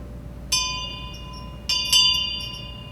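A memorial bell is tolled to salute departed USS Parche submarine shipmates at a reunion, ringing three clear strikes whose long metallic tones ring on and overlap.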